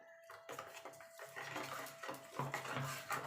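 A mixer-grinder jar being rinsed with water while making katla fish bhapa: soft sloshing and clattering of the jar, faint and close, with no voices.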